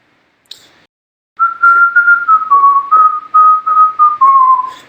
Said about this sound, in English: Does anybody know what that thing that I'm whistling is?